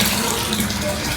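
Water pours steadily into a very large, long water tank at a home, giving a constant rushing, splashing flow that fills the clip evenly at moderate volume.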